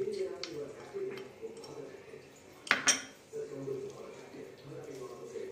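Metal utensils clank and scrape against a cooking pot as ginger garlic paste is added and stirred for murg musallam, with a sharp clatter near the middle and someone talking throughout.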